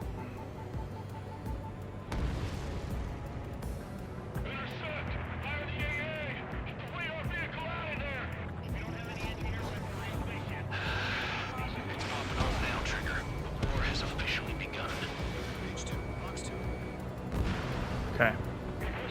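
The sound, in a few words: bombs exploding in video game Ace Combat 7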